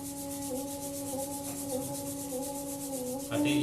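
Two palms rubbing together during a beginner yoga session, a steady continuous friction that stays even throughout, close and moderately loud, with no speech.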